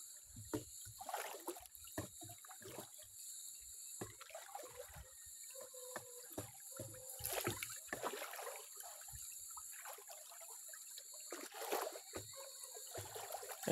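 Water from a spring pipe gurgling and splashing unevenly as it flows into a tilapia fishpond, with irregular bursts and trickles over a quiet background, with no voices.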